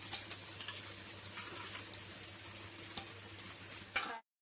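Biryani spices crackle and sizzle in hot oil and ghee inside a pressure cooker, a quiet steady fizz scattered with small pops and ticks before cutting off abruptly.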